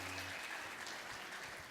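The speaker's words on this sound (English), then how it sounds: "give them a round of applause." Audience applause at an interactive family church service, a steady crowd clapping with dense broadband texture, fairly faint and distant, continuing evenly for under two seconds.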